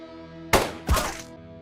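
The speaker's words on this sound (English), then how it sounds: "that guy just fell completely lifeless on the floor there" A lifeless body drops to the floor in the game Quasimorph: two short, dull thunks about half a second apart, close and fairly loud over a quiet background hum.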